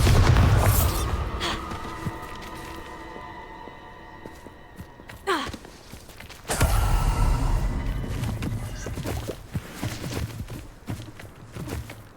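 A Bombarda spell goes off in Hogwarts Legacy gameplay with a loud, deep explosive burst. A second heavy boom follows several seconds later, with rumbling debris and quieter game ambience in between.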